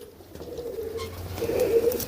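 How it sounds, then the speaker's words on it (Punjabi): Pigeons kept by a pigeon fancier coo in low, throaty, rolling calls close by, the cooing swelling louder near the end with no talking. "ਸਾਰੇ ਕਬੂਤਰ ਆ"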